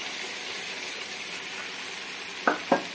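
Dal added to a hot spice tadka for dhaba-style dal fry, a steady close sizzle with two quick stirring knocks near the end.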